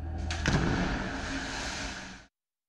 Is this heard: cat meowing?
no